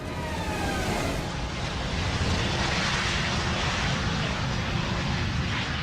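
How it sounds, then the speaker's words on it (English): Steady, loud broadband roar of a McDonnell Douglas DC-10 jet airliner in flight, flying on its two remaining wing-mounted engines after the number 2 engine was shut down, constant and unbroken throughout. "The DC-10 can fly comfortably on its remaining 2 wing-mounted engines."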